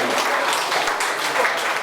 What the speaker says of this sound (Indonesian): Tepuk tangan untuk ibu-ibu Warakawuri.